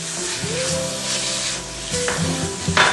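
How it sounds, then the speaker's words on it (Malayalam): Chopped squid head pieces sizzling steadily in a hot pan, a continuous close frying crackle with a few stirring scrapes and clinks near the end. "ഞാൻ കൂന്തലിൻ്റെ തലഭാഗം ചെറുതായി നുറുക്കിയിട്ട് അത് ഫ്രൈ ആക്കിയിട്ട് എടുക്കണം"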